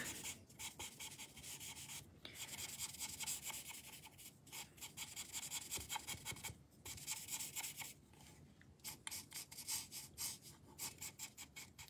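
A chisel-nib marker scratches and rubs across a birthday card in quick, close strokes, a dry scratchy texture broken by brief pauses.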